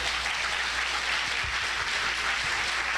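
A church congregation applauds loudly in a dense, continuous wash of clapping for a few seconds.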